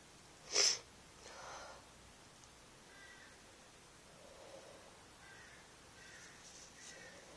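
A single sharp, loud sneeze from a sick person in bed breaks a quiet room early on, followed by faint sniffing and soft breathing noises.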